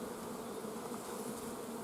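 Bees buzz steadily at a beekeeping site, a dense, even hum of many insects heard alone and fairly faint, with no speech.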